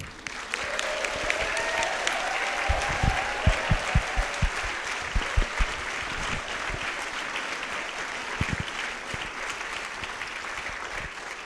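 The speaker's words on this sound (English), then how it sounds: "Let's give them a round of applause." A celebration audience gives volunteers a long round of applause, a steady wash of many hands clapping at moderate distance with a few sharper individual claps standing out.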